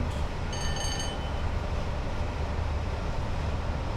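Steady, even rumble of a train running in the Train Sim World 6 game, with a brief whistle-like tone early on and no talk.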